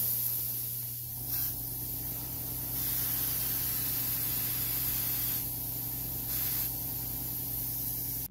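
An airbrush sprays a white coat onto a fishing lure, a continuous close hiss over a low hum, with brief breaks where the spray stops and restarts.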